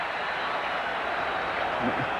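A steady, dense crowd roar fills a 1999 NFL football game between the Falcons and Cowboys, holding at an even level throughout the moment.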